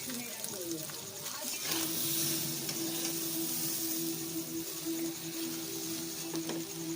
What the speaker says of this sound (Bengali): তো এবারে আমি কড়াতে চালটা দিয়ে দিলাম।